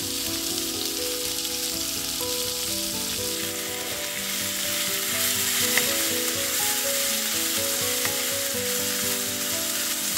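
Onions and green chilies sizzle and fry in a hot pan for a South Indian oothappam topping, giving a loud, steady crackle with faint stirring throughout and no voices.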